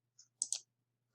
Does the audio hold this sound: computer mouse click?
yes